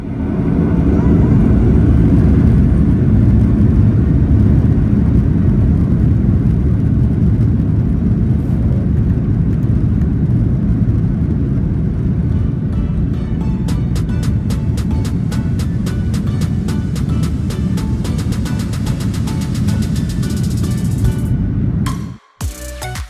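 Steady, loud cabin roar aboard a Somon Air airliner climbing out of Almaty toward Dushanbe, with dense rumbling engine and airflow noise, a run of sharp ticks and rattles in the second half, and an abrupt drop near the end.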